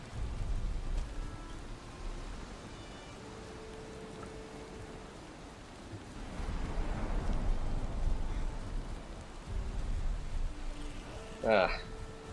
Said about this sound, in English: Man, there's just a storm brewing.